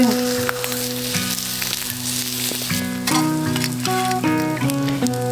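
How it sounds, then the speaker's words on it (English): Sausages fry over a campfire outdoors with a steady sizzle and crackle, while clear melodic tones shift in pitch over it. "chuck a few sausages on now as well."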